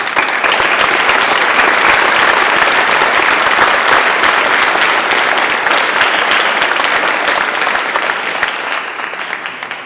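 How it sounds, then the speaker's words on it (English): An audience at a National Honor Society induction ceremony claps steadily for about ten seconds, a loud, dense round of applause that fades slightly at the end. "Please join me in thanking them with a round of applause."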